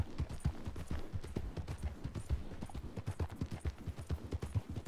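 Horse hooves clip-clopping in a roleplay video game, a brisk, rhythmic gallop of several horses running together, steady and close, with no talking.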